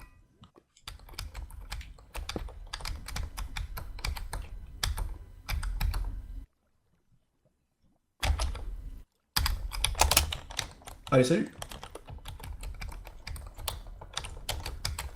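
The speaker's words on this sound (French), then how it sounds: "Le bruit de clavier, par contre, what the fuck?" A computer keyboard clatters with rapid, close clicking keystrokes in uneven bursts, stopping briefly for a gap before resuming, and a voice speaks a few words partway through.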